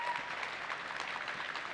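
Faint, steady applause from a keynote audience at an Office 365 presentation, a continuous patter of many hands heard at a distance with no talking over it.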